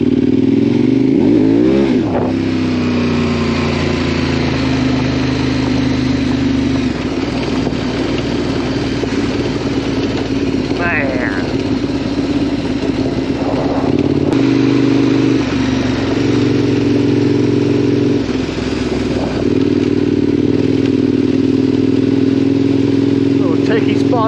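An adventure motorcycle rides a scenic woodland road in North Carolina, its engine a steady loud drone throughout with a few swells as it revs, and a rider's voice breaks in briefly over the engine.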